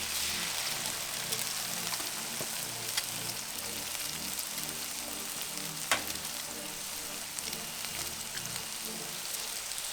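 Eggs sizzling steadily on a hot Pit Boss five-burner griddle, a loud, continuous close-up crackle with one sharp scrape or tap near the middle.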